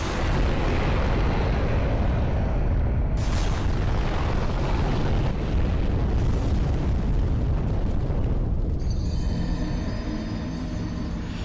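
A roaring fire blast sweeps across a walkway in the video game Demon's Souls, a loud, continuous rumbling whoosh that fills the whole stretch with a brief shift in texture near the end.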